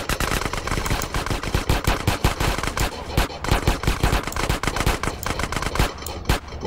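Rapid automatic gunfire from GTA San Andreas during a metro station shootout against the Ballas gang, with dense bursts of shots cracking loudly and almost continuously, no voices.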